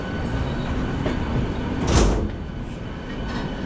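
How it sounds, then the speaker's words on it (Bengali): The Howrah–Mumbai Duronto Express 12262, with a white engine and red coaches, rumbles past nearby as a steady broadband roar that swells briefly midway and then settles back into continuous rolling noise. "ওই আমাদের ইঞ্জিন আছে সাদা ইঞ্জিন, লাল বগি আর সাদা ইঞ্জিন।"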